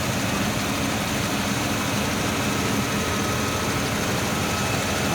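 1955 Chrysler C300 with its 331 Hemi V8 idling, a steady, dense low rumble heard close up and at an even level throughout, with no talking.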